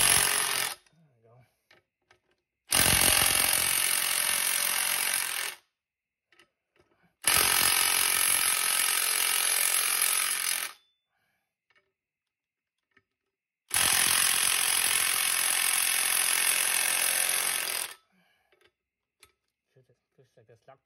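Battery-powered impact tool working loose a Loctite-secured bolt on a Triumph Speed Twin motorcycle during a belt conversion, three long loud rattling bursts of several seconds each separated by pauses, with faint movement in between.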